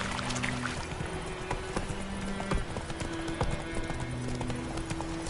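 Horse hooves clip-clop at a steady trot in The Witcher video game, continuous and close, with game music and ambient sound underneath.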